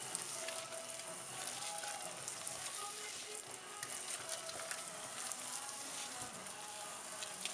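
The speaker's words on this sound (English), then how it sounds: "You want to keep on stirring so it doesn't catch on the bottom of the pan." Polenta being stirred in a pan, a steady bubbling sizzle with soft scraping running throughout, fairly even and close with no talking.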